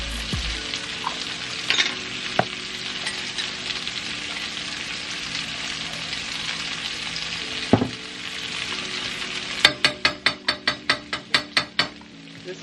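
Sofrito sauce for rice sizzles steadily in a pan, a constant close frying hiss with a few knocks and a quick series of rapid taps near the end, with no talk.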